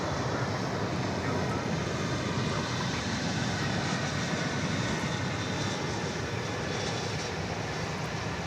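An aircraft landing at DFW Airport, a loud continuous jet roar filling the whole stretch with steady broadband rumble and no talk.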